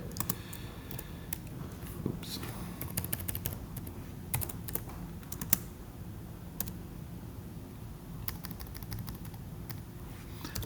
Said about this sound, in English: So I'm just going to type the 2 equations first.